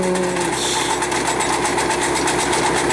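Three 1,600-cubic-foot air compressors run in series on a rock drilling rig, a loud, steady mechanical drone with a faint rhythmic pulsing throughout, with no voices.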